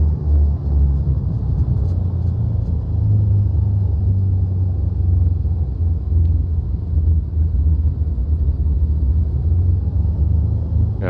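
A steady low engine rumble and drone of a Cessna 414AW twin-engine airplane idling and taxiing in a flight simulator, continuous and even, with no voices.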